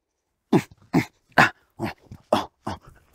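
A pointer dog gives six short, sharp barks in an even rhythm about half a second apart, close and fairly loud, with brief quiet gaps between them and no voices.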